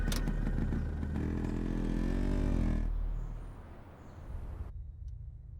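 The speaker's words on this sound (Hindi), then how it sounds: "इतना शोर क्यों मचा रहे हो? जी, तुम्हारी टांगों के बीच एक बाइक है, कोई रॉकेट नहीं।" A motorcycle engine revs loudly and steadily for a few seconds, then drops away, leaving quieter low rumble and background noise.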